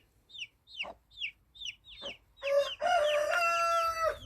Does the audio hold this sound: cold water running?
no